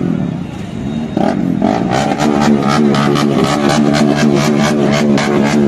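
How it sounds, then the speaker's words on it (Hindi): Triumph Daytona superbike engine revving at a roadside dhaba, a loud close buzzing note with rapid rhythmic pulses that climbs and holds after a brief quieter start. "भाई ये तो सुपर बाइक का साउंड है भाई,"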